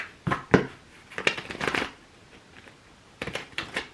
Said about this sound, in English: Oh my goodness, my shuffling.